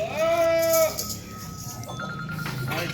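A Rajanpuri goat gives one loud, close bleat at the start, followed by quieter background noise with a faint, steady electronic tone.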